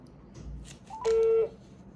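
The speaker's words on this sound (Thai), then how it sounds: "เราก็กดซิม1ครับ แล้วกดโทรออกครับ" A single clear dialing beep from a mobile phone as a call is placed from SIM 1. It is short and steady and sits over faint background noise.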